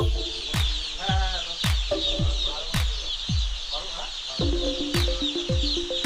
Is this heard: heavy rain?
no